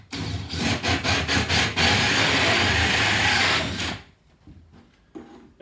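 A powerful drill bores holes through a kitchen worktop, loud grinding and whirring at close range, first in a few short bursts and then one sustained run, before cutting off to near silence.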